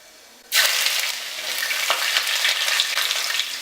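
Chopped ginger and garlic hit hot oil with popped mustard seeds, bursting into a loud, sudden sizzle that keeps crackling and hissing steadily close by.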